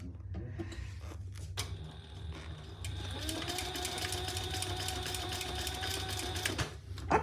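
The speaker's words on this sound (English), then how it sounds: "let's sew that on straight" A sewing machine stitches fabric in a steady, fast mechanical whir with a rhythmic needle clatter, running continuously for several seconds at close range after a brief start-up.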